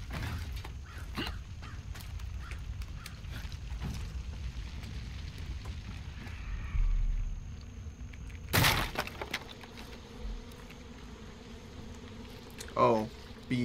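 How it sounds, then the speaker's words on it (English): Buzzing bees in the Far Cry 5 video game, a faint insect drone under scattered game clatter and sharp impacts, with a voice speaking near the end. "Oh, bees."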